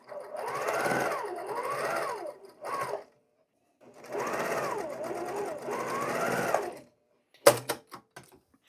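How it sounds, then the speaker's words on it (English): A sewing machine chain-pieces quilt blocks in two close, steady runs of rapid stitching with a pause between, followed by a few sharp clicks and clatters at the end. "grab the next column and begin a new row of chain piecing without cutting or pressing anything in between"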